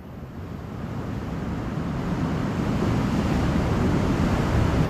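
Ocean waves rush and churn beside a small fishing boat off Palawan, a steady broadband wash that builds slightly louder over several seconds, mixed with wind buffeting the microphone and no talking.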